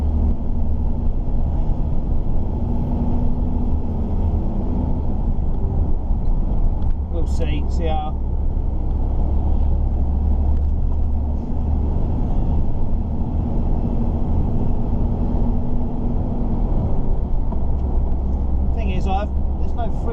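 Cab of a 2015-registered Mercedes truck hauling sugar beet: a steady low engine drone and road rumble fill the background while someone talks over it, with a few faint higher rattles now and then.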